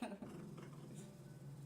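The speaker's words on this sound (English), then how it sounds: "My dogs are being dogs again." Dogs growl and whimper softly indoors, a low, faint rumbling grumble that runs throughout the short stretch.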